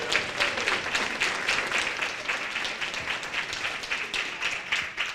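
Steady applause from a gala audience at an anniversary celebration, many hands clapping densely and evenly for about five seconds, fairly close and full, with no voices on top.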